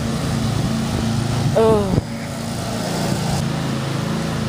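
A lawnmower running close by, loud and steady engine drone throughout, with a brief voiced exclamation over it partway through.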